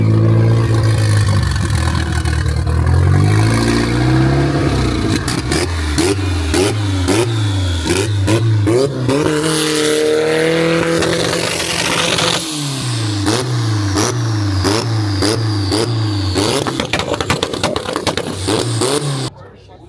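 A turbocharged Honda Civic engine revs repeatedly at a JDM car meet, rising and falling in quick bursts over a steady loud idle, with people talking nearby.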